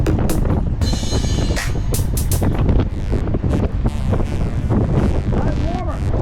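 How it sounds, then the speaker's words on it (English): Wind rushes loudly past a cyclist crossing a lake, a constant close roar on the microphone with sharp gusty bursts and rattling clicks throughout. "making sure that wind did not blow me to the right"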